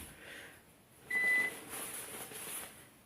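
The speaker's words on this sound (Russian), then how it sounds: "Это у меня блок бесперебойного питания пищит." A single steady electronic beep from an uninterruptible power supply during a power outage sounds briefly in a quiet room amid faint rustling.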